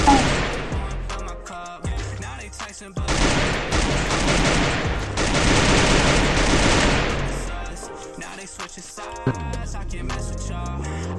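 Rapid automatic gunfire in a Free Fire match, loud bursts of shots rattling almost continuously at close range, with brief pauses and a few trailing single shots.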